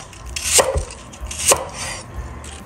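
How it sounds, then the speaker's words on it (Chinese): Two sharp knife chops cut an apple into chunks on a cutting board, each a crisp close knock spaced about a second apart, with a quiet room between them and no talking. "再把苹果砍刀，切成滚刀小块"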